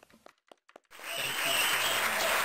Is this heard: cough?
no